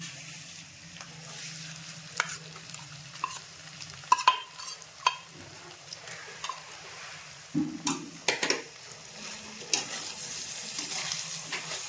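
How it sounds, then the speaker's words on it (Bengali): Ground spice masala with cumin, coriander, turmeric and black pepper frying and being stirred in a pan for Purulia-style mutton ghugni, a steady soft sizzle broken by sharp ticking scrapes and clinks of the spoon, close by with no talking. "এই মশলাটা দিয়ে আমি ভালো করে কষিয়ে নেব।"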